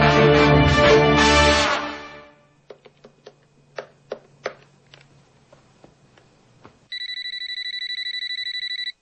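An unanswered telephone rings with a steady, loud electronic trill near the end, preceded by a burst of loud music and then scattered soft clicks and taps in a quiet room.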